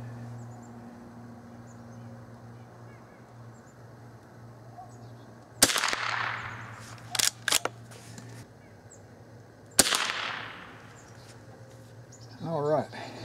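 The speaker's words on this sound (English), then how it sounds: "Gun shooting a little bit to the left." Two sharp .22 Short gunshots crack out on an outdoor range, each alone with a brief ringing tail, followed by a couple of quick clicks of handling between them and faint birdsong.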